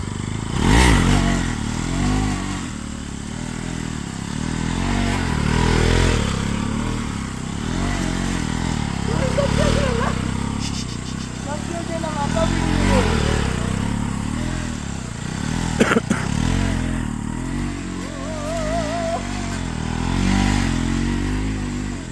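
Modified NS200 stunt motorcycle engine running and revving steadily up close, with a continuous rough rumble and occasional rattles, alone without talk.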